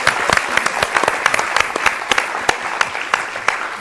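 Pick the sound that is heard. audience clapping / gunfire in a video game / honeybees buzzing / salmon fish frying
audience clapping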